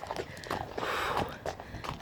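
A horse named Blanc walks with a rider just mounted, hooves clip-clopping in a steady close rhythm, with some rustling and faint movement noise around it.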